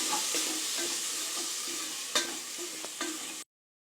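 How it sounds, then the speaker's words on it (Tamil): Tomatoes and green chillies sautéing in a pan for mutton curry, a steady close sizzle broken by a few scraping stirs before it cuts off abruptly. "தக்காளி ரெண்டு பழம் ரெண்டு பச்சை மிளகா சேர்த்துருக்கேங்க இது நல்லா கொஞ்சம் வதங்கட்டும்"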